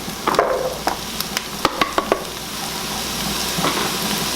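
Carrots go into a pot of chicken stew where the chicken has been lightly browned, with a quick run of sharp clacks and scraping stirs over a continuous close sizzle.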